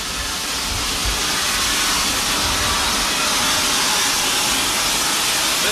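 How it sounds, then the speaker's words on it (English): Steam locomotive 4449 blasting steam from its blowdown valve as the fireman clears boiler sediment, a loud, steady roaring hiss that fills the whole stretch without letting up. "This is your blowdown valve."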